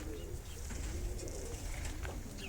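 Tippler pigeons coo softly inside a loft, a low murmuring, overlapping cooing that carries on throughout against a faint background hiss, with no talk.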